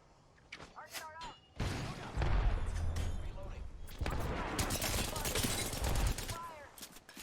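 Gunfire and explosions in the video game Apex Legends, a fairly quiet mix of scattered shots and heavy thumping bursts, with people talking over the action throughout.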